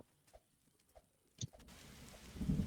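Thunder from lightning in the video game 99 Nights in the Forest: after faint ticking, a low rumble builds and swells into a rolling, rain-like roar, fairly quiet overall.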